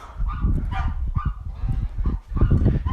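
Loud, dense honking from a flock of farmyard geese, overlapping calls going on without pause, close by.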